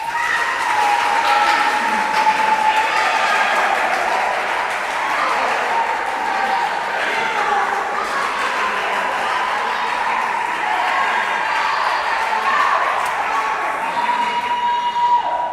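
An audience at a Bible quiz championship grand finale cheers and applauds continuously for about fifteen seconds, a dense, loud wall of clapping and shouting that never lets up.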